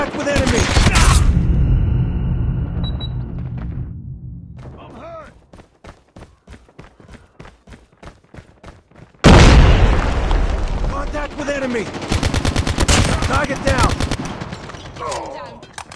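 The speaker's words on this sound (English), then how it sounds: "Watch out! Grenade!" Grenade blasts and rapid gunfire in a Call of Duty Mobile ranked team deathmatch: a heavy, loud burst of combat noise, a sparser run of sharp shots, then a sudden loud explosion and more dense firing, with game voice callouts mixed in.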